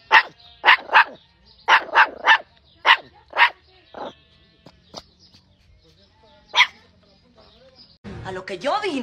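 A freshly groomed dog barks in a run of sharp, loud close barks, some doubled, then a few isolated yips, ending with a brief burst of other noise.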